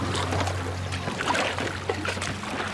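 A rowboat with no engine is paddled by hand, giving soft water swishes and light splashes over a low background hum that drops away partway through.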